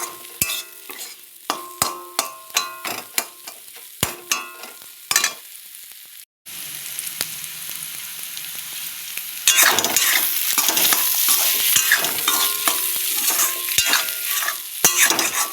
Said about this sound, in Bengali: সব মশলা দিয়ে একটু ভাজা ভাজা করে নিলাম